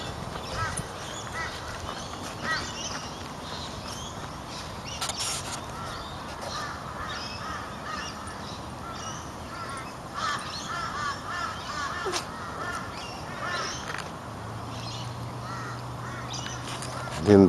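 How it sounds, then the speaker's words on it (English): Water birds call across a wetland pond near a causeway, with crow-like caws and scattered quacks coming from a distance over a steady outdoor background. "Plenty of water birds."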